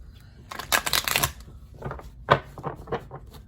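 Large tarot cards are bridge-shuffled up close, with a dense burst of riffling followed by several sharper slaps and taps as the deck is squared.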